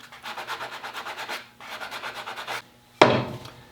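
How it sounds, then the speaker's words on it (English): Finish is rubbed and scraped off the beveled edge of a wooden Stevens gun stock in quick rhythmic strokes, two bursts of close scratching separated by a short pause, then a sharper knock and scrape at the end. "let's see if we can't get this bevel stripped."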